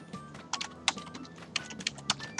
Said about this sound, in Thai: โอเคนะผมพิมพ์นะครับ